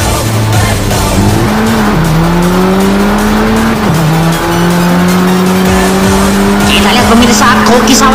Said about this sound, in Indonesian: Dengan mobil Alpine-nya, dia berhasil melewati tikungan-tikungan tersebut dengan kekuatan yang sangat cepat sekali